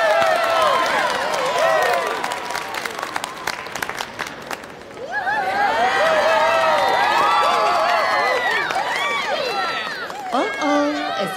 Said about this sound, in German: Verehrte Gäste der South Boston Mall, jubeln Sie jetzt für Ihren Favoriten.